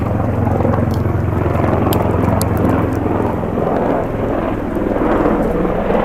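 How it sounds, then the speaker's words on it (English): A steady, loud rotor drone fills the clip, a helicopter flying below the listener, its low thrumming beat holding constant throughout with no voices. "We're actually above a helicopter. Here it goes."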